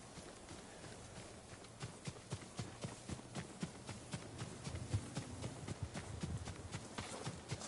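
Horses gallop in Ghost of Tsushima, a rapid irregular run of hoofbeats at moderate distance over a faint outdoor background.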